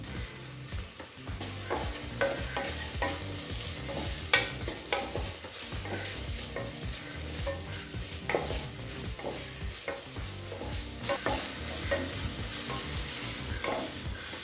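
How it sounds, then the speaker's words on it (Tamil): Tomatoes sauté in a pan for a potato and pea gravy, giving a busy, continuous sizzle with frequent spatula scrapes and clinks against the pan throughout, and no talking. "தக்காளி நல்லா வதங்கிடுச்சு."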